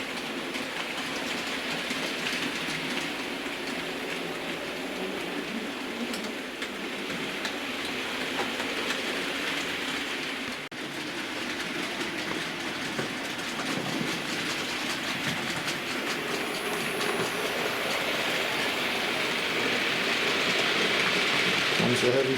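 Hornby P2 R3440 model locomotive running on its track, a steady close whirring rumble with faint rail clatter throughout, growing slightly louder toward the end.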